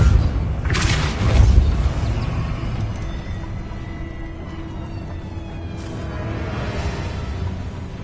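In Hogwarts Legacy, a Depulso spell lands with a deep boom and whoosh early on, then a long, rumbling tail fades under low ambient hum, with a softer swish near the end.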